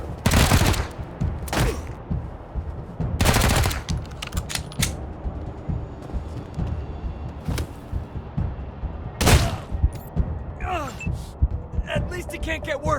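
Bursts of gunfire from a Wasteland 3 firefight, with several loud broadband volleys and scattered single shots over continuous game ambience and a voice speaking briefly.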